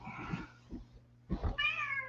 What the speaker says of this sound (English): Hold on, I'm putting this damn cat up.